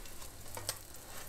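Slices of bread with egg cooked inside them fry in a pan with a faint, steady low sizzle throughout, plus a couple of brief soft clinks near the middle.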